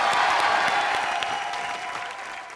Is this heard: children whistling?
no